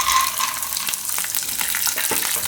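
Peanuts and garlic fry in hot oil for thecha chowmein: a steady, close sizzling hiss runs throughout, with faint crackles and a few soft clicks and no voices.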